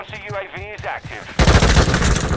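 Submachine gun fire in Call of Duty MWII (2022), heard as a loud, dense burst of rapid shots that cuts in abruptly after a stretch of talking and keeps going to the end.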